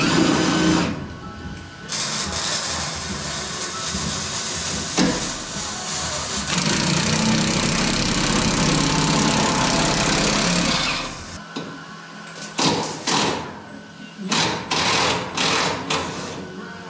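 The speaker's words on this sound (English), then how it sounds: "right here you can see what I need to take out with the die grinder." A die grinder cuts metal on a 1967 coupe, a loud continuous high whine that runs steadily for about ten seconds, then breaks into shorter on-off bursts as the tool is stopped and restarted.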